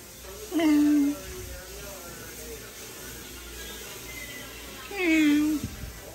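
A cat gives two distinct meows a few seconds apart, close and clear over a quiet room hum.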